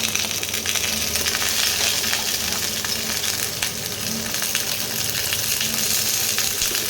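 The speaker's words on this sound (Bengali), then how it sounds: "এবারে শিমগুলোকে আস্তে আস্তে দিয়ে দিচ্ছি।" Green beans sizzle and crackle in hot oil, a steady loud frying hiss with scattered pops and stirring clicks, close up and without talk.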